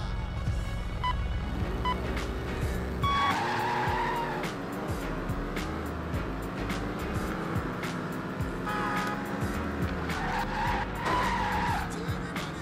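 A car in the Xbox racing game Test Drive Overdrive skids through corners with loud, sustained tire squeals over a steady engine roar, the squeal rising and falling in long sweeps throughout.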